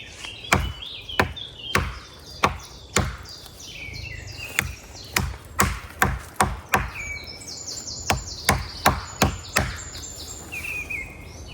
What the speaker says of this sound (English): I'm going to fell this small tree using a baton technique. So I'm going to just take a slice out here.